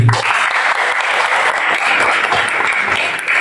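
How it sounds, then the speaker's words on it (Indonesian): An audience at a high school education debate final in Madura applauds the two teams, with loud, close, continuous clapping that holds steady throughout. "Kita kasih aplaus dulu untuk dua tim"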